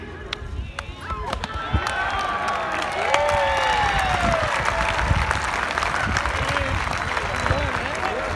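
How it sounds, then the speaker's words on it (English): Crowd at a baseball game applauding and cheering during an opening pitch ceremony, a broad steady roar of clapping and shouts that swells after the first seconds and holds loud throughout, with whistles and voices mixed in. "Big round of applause for all our dignitaries."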